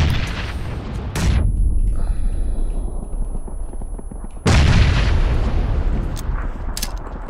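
A frag grenade goes off in PUBG, giving two heavy, booming blasts a few seconds apart. Each one is loud and close, with a rumbling low tail between them.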